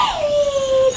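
A dog lets out one high, drawn-out whimper that slides down in pitch and holds as a thin whine for about a second, close and fairly loud.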